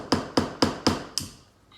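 Five evenly spaced, ringing hammer strikes on small nails driven into a wooden board for string art, loud and close with a short decay after each blow.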